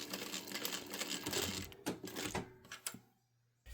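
Sewing machine stitching and back-tacking the end of a lining seam on a Shamballa bag, rapid mechanical clatter in short bursts that stops and starts before falling quiet.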